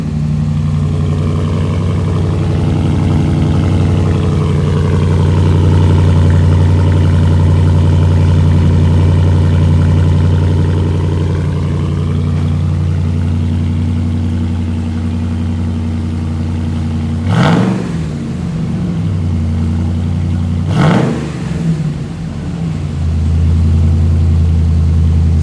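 A 2015 Ram with the 6.4 engine and a Flowmaster FX exhaust idles in a steady, deep, loud drone, with two brief sharp blips late on.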